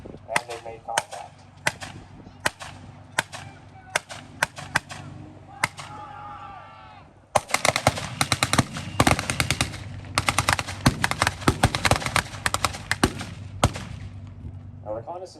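Blank-fire gunfire at a battle reenactment during a tank weekend at a Canadian tank museum in Oshawa: scattered sharp cracks give way to dense, rapid volleys and machine-gun bursts, with a brief engine or voice murmur between.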